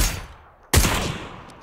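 A sharp, loud gunshot cracks in a video game firefight, a single close report about halfway through that decays into a brief echoing tail over low background rumble.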